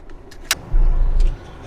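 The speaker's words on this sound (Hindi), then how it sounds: "so now it is time to drive the car" Engine of a 2019 Hyundai Venue diesel cranking and catching after a couple of faint clicks, a loud low rumble that runs for about half a second before settling to a quieter idle.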